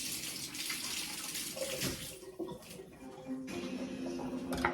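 Tap water runs steadily into a kitchen sink as potatoes are rinsed by hand, a continuous close splashing with small shifts in flow and clinks of handling.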